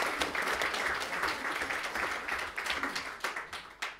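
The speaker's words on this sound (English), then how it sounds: "give him a round of applause" An audience applauds a retiring colleague named Nick with a burst of clapping that begins full and dense, then thins into scattered individual claps as it fades toward the end.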